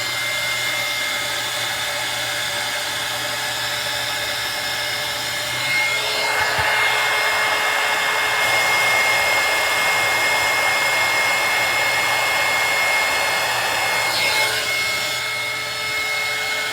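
A heat tool runs steadily as it dries paint on a doll before another coat is added, a broad whooshing blow that grows louder around the middle of the clip and continues throughout with no talking.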